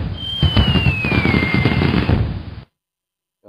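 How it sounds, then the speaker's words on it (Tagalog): A fireworks effect from a V8 sound card fires off loud, continuous crackling bursts with a whistling rocket tone gliding downward over them, ending abruptly after about two and a half seconds, then a brief faint sound. "Yun, fireworks."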